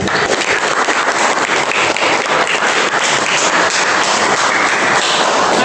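A grade 11 class claps for a student after a group presentation, a loud, continuous patter of many hands in a classroom, steady throughout with no talking over it.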